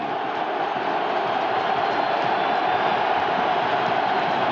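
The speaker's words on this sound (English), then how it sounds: "Listen to the crowd in this end of the field." A football stadium crowd at an AFC Wild Card playoff game between the Miami Dolphins and Buffalo Bills roars as a dense, steady wash of noise, unbroken and loud throughout.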